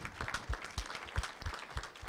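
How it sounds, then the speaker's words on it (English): Faint, moderately paced clapping from a symposium audience, a loose rhythm of hand claps over a soft crowd wash, distant and low in level. "we should applaud for the union"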